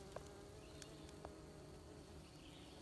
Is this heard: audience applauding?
no